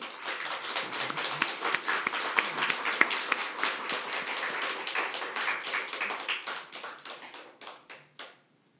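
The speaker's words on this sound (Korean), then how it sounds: "우리 하나님의 위로와 은혜가 임하도록 우리 위로의 박수 우리 한번." A church congregation at a Sunday morning worship service gives a round of applause that swells and holds, then thins into a few scattered claps before stopping.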